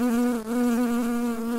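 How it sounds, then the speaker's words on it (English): Bee wings buzzing as a sound effect, a steady close, loud drone with a strong even pitch that wavers slightly and carries alone, with no talk over it. "Super fast wings are what make all the buzz."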